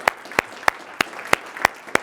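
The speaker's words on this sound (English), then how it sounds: "I want you to keep clapping because I want you guys to give yourselves a round of applause" Sharp, evenly spaced claps ring out about every third of a second, seven crisp hits over a quiet background, close and clear, with no talk.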